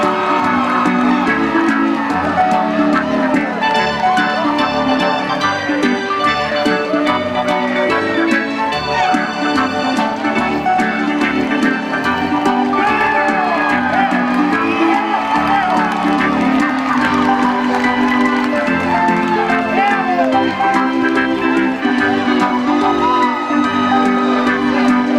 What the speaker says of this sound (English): Make some noise for them. Encourage them and cheer them on here on this Thursday night.